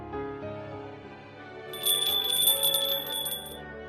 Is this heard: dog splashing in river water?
no